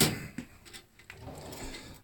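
A metal tool box drawer slides open in a home garage, a short scraping rattle with a sharp click near the start, close and moderately loud, followed by faint handling noise.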